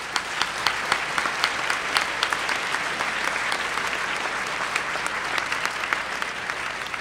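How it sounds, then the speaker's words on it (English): An audience at a bar association MLK luncheon gives a warm round of applause, steady crowded clapping at even strength from start to finish without talk. "in a warm round of applause for making the time we spend together a special one"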